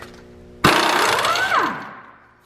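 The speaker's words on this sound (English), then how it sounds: "so I'm just gonna impact it off." A pneumatic impact wrench removes the ball joint castle nut on a Toyota 4Runner, bursting in abruptly with a loud, close, rattling hammer that holds about a second, then winds down and fades.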